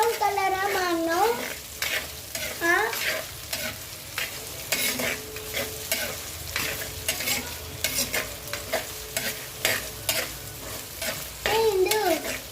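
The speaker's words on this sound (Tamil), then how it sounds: "வெங்காயம் நல்லா ப்ரௌன் கலராக மாறணும்." Onions frying in a pan until brown, a constant sizzle broken by repeated scraping stir strokes, with a voice briefly heard at the start and end.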